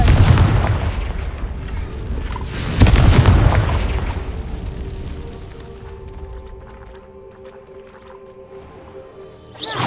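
The Confringo blasting spell explodes in the wizarding game Hogwarts Legacy, two heavy booms in quick succession rolling off into a fading rumble, then another blast at the end.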